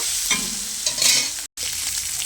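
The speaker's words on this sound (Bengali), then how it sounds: "তেলটা আমার গরম হয়ে গেছে, চিংড়ি মাছগুলো আমি দিয়ে দিয়েছি। এবারে ভালো করে ভেজে নেব।" Prawns frying in hot oil in a wok give a bright, close sizzle with stirring scrapes, loud and continuous apart from a momentary break in the middle.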